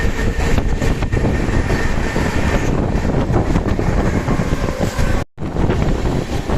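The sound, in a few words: Indian Railways express train 12219 running past a station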